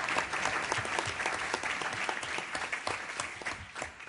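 Steady, moderately distant applause from an audience at a conference panel debate continues without break for the full four seconds.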